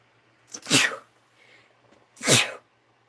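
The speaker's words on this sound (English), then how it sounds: "I didn't sneeze in my hands, I sneezed in my elbow." Two loud, sharp sneezes up close, about a second and a half apart, with near silence before and after.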